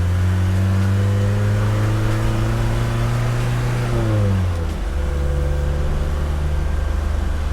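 Restored Mercedes 240GD diesel off-roader driving, its steady engine drone dropping in pitch during a smooth gear change before settling into a lower, even hum, loud and close from inside.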